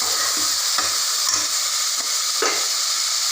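Ginger garlic paste and tomato sautéing in a pan with a steady sizzle, broken by soft stirring scrapes at irregular intervals, close and unvoiced.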